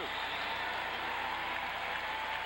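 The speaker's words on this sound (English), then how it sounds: "Listen to the crowd here, though, in San Diego, trying to spur their Sockers on" A San Diego Sockers home crowd at a 1988 indoor soccer finals game in San Diego roars in a steady, dense wash of cheering and applause that stays loud and even throughout, with no clear voices standing out.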